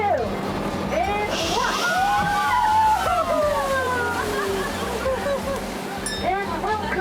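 A vehicle plunging into the Kallang River in Singapore, with water sloshing and rushing steadily around it while excited voices call out over the noise.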